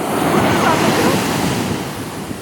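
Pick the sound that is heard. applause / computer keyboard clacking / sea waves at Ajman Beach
sea waves at Ajman Beach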